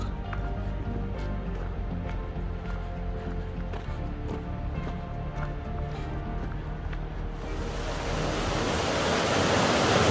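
A steady, heavy roar of water rushing through the Taubenloch Gorge, continuous and fairly close, swelling louder and brighter over the final seconds.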